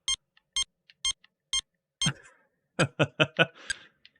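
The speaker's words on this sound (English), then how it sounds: "Oh, we get sad game over music because we didn't answer the phone." Sad game over jingle from the 1981 Hotline handheld game: a row of evenly spaced electronic beeps followed by a short, descending run of bleepy tones, thin and clear with no talk.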